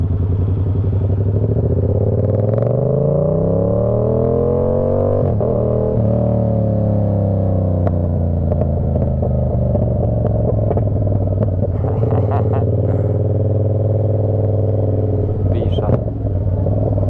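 A Yamaha R7 motorcycle engine hums and drones steadily while riding, its pitch rising and falling with throttle changes, close and loud, with wind and road rumble, occasional clatter and a voice talking over it.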